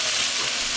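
Garlic fries and browns slightly burnt in hot oil for a mustard pork dish, giving a brief, loud, dense sizzle heard close up without any talking.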